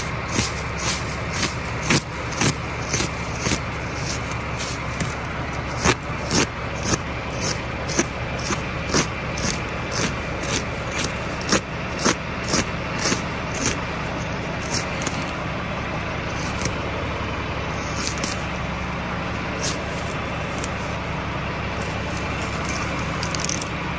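Farm machine slowly unrolling a hay bale for cattle, a steady engine drone with evenly spaced clicking or snapping ticks repeating throughout, close and continuous.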